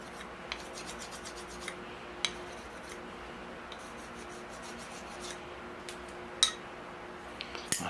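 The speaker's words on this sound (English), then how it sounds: "I'm just dressing up the tips of my pruners before I begin pruning, cleaning them up, getting them nice and sharp with a fine stone." Bonsai pruner tips are dressed on a fine sharpening stone, giving a soft, near, scratchy rubbing with intermittent metallic scrapes and small clicks over a quiet background.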